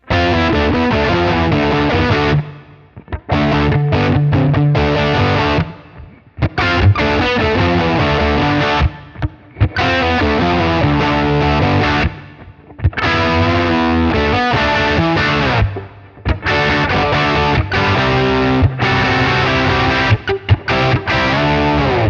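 A loud distorted electric guitar riff in open G tuning repeats a phrase in bursts, with brief gaps between passages.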